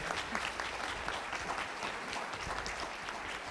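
Strong, sustained applause fills a conference hall at an academic congress on electronic government in Chile, dense and steady throughout with no break.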